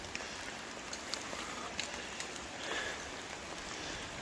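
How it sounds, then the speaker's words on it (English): Heavy rain patters on a pitched tent while wild camping in Scotland, a faint, steady wash of drops with scattered sharper taps on the fabric. "the rain has not stopped"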